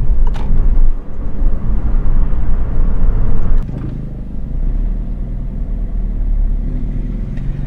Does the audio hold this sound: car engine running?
yes